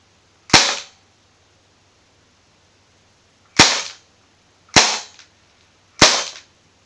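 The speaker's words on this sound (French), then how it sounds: "Je vais tirer. vais essayer de bien tirer droit." An airsoft gun fires at a homemade target, four sharp, loud cracks, one alone and then three in quicker succession, over near silence.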